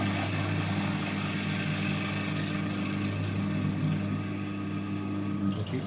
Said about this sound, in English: So I'm going to drill now through this.